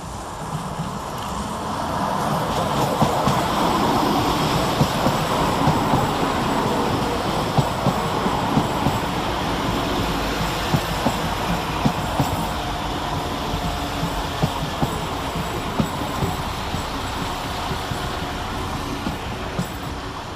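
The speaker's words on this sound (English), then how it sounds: "Next to crawl through the station is 172219 and 172335, working the 1016 West Midlands Railways service of Dorwich to Kidderminster." Two West Midlands Railway class 172 diesel units crawl through Cradley Heath station, giving a steady, loud rumble of engines and wheels with rhythmic clicks over the rail joints.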